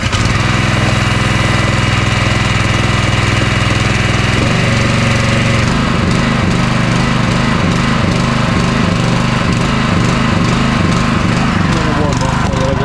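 A small engine idles steadily and loudly, its low, even throb dropping and turning rougher and more uneven partway through, running alone with no talk.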